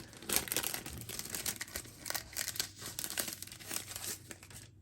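Close, crisp crinkling and tearing of plastic packaging as a pack of scrapbook embellishments is opened, steady and busy throughout with a few louder rips and no talking.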